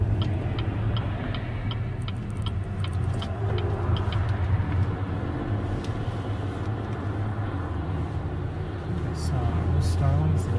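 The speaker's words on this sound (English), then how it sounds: "Pull over and let some vehicles pass us." Cars passing on a road at Montezuma, a steady, fairly loud low rumble of traffic that continues throughout, with faint ticking on top.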